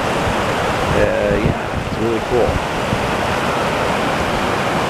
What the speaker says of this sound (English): River's flowing great.